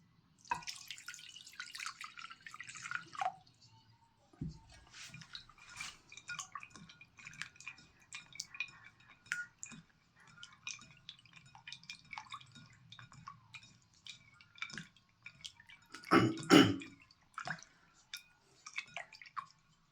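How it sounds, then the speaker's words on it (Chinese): Running water splashes and trickles over a handful of poria (fuling) as it is rinsed by hand, with steady dripping, scattered splashes and one louder gush near the end. No one speaks. "因此茯苓我们要先给它洗一洗"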